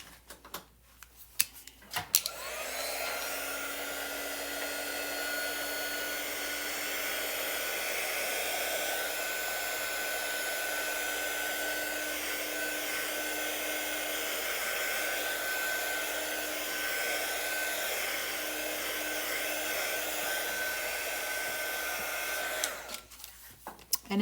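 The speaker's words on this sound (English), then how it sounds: "Now I'm just gonna make sure all of this is dry." A hair dryer runs steadily for about twenty seconds, drying chalk on a craft project. It sounds close and loud with a constant whooshing hum, switching on and off with brief clicks at each end.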